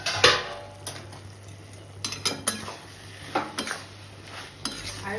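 Metal clatter of a cooking pot lid and utensils over hilsa fish curry in a kitchen, a few sharp clinks and scrapes against a faint steady hum.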